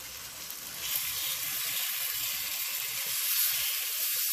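Onions cooking beneath pork chops in sauce, giving a steady close hiss and sizzle that grows slightly louder and holds throughout, with no talk.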